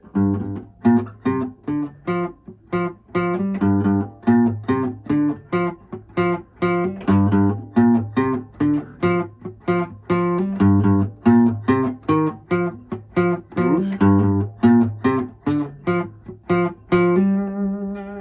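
A teacher plays a song on a stringed instrument at a quick pace: a repeating riff of sharp plucked notes with steady rhythmic attacks, clear and close, with no talking.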